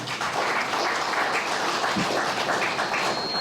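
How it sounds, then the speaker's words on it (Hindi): An audience at a World Hindu Federation gathering claps from the floor, a steady, loud roll of many hands applauding without a break. "मंच से एक बार जोरदार ताली बजाइए आप लोग पूरा"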